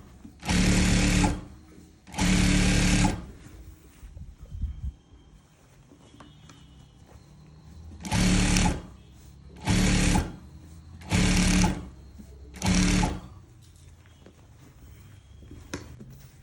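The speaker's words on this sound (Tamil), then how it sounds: "இதையும் வந்து நான் ஒரு படிமான தையல் போட்டு மேலே தைக்க போகிறேன்." Electric sewing machine stitching a gown, running in six separate bursts of about one second each with quiet pauses between, loud and close.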